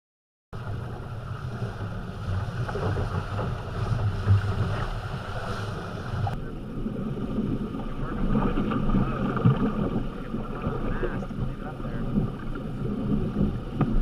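A sailboat running wing on wing at about 8 knots in a race, with steady rushing wind and water noise close by, loud and continuous, the tone shifting partway through.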